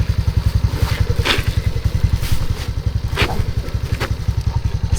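Motorcycle engine running steadily close by, a low, rapid, even putter with a few louder clattering bursts over it, no voices.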